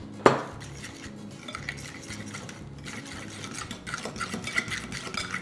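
A utensil mixing keto pancake batter of dry ingredients in a bowl: a sharp clink at the start, then steady scraping and stirring against the bowl, close up, with no talking.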